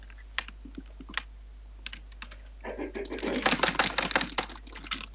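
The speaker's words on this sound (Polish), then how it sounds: "Nie wal tak w tą klawiaturę." Scattered keyboard taps give way to a flurry of fast, heavy typing on a computer keyboard, growing louder and denser toward the end.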